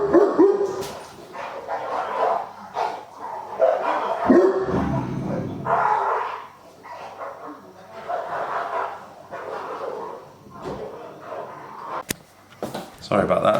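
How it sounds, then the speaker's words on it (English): A neighbour's dog next door barks loudly and repeatedly in a series of bursts, with yips and a whimpering tone, sounding distressed and heard through talk in the room. "next door's dog just sounded like it was being mauled."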